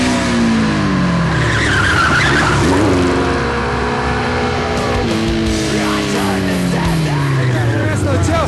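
Stunt motorcycles revving hard with engine pitch sweeping up and down as tires skid and squeal, loud and continuous throughout, with faint voices underneath.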